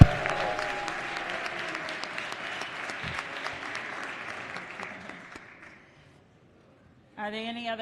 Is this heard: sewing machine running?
no